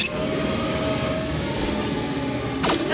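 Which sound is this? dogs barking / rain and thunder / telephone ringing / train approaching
train approaching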